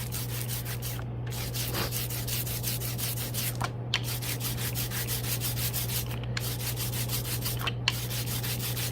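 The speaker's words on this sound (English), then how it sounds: "I can hear how sticky it sounds, and then I know I'm ready to ink my printing plate." Brayer rolling back and forth through sticky printing ink for a collagraph print, a tacky crackling rasp repeating in steady strokes, with brief pauses between passes, close and fairly quiet.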